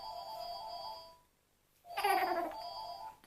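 A phone ringtone plays as a steady electronic tone, cuts out, then returns as a brighter warbling melody, quiet and indoors. A baby's babbling sounds mixed in.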